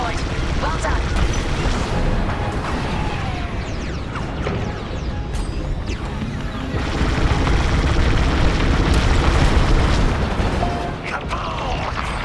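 Explosion of a destroyed dish in the space combat game Star Wars Squadrons, a dense rumbling blast amid continuous gunfire and engine noise, loud throughout with a swell midway.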